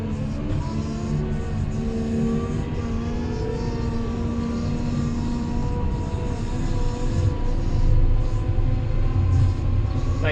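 A wheel loader pushing snow with a plow, its diesel engine droning loud and steady with a low rumble and a sustained mechanical whine.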